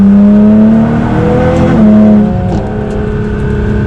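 A Nissan GTR accelerates hard on a country road, its engine note loud and close from inside, rising steadily in pitch, dipping briefly at a shift and climbing again.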